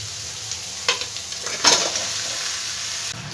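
Fried fish heads are sautéed with spices in a pan, giving a steady soft sizzle with a couple of sharper scraping stirs near the middle.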